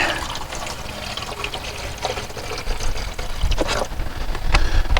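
Water pours in a steady, close trickle into a cup or pot for coffee while truck camping, growing slightly louder and fuller toward the end, with no talk.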